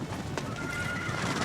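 A horse whinnies once, faint and somewhat distant, a brief thin call over a constant rumbling outdoor background, with no talking.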